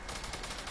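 Rapid gunfire in a first-person shooter game, a dense burst of overlapping shots lasting under a second, loud and close with no talk.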